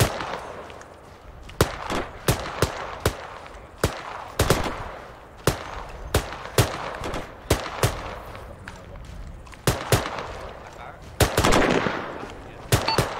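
Rapid bursts of automatic gunfire in the Arma 3 military simulation, sharp cracks in irregular volleys across the whole stretch, loud and close, with faint radio-style voices underneath.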